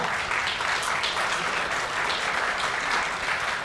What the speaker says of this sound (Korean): 최동석 의장님, 그리고 멀리 제주에서 오신 나의 동지 장성철 제주도당 위원장께도 뜨거운 박수를 부탁드립니다.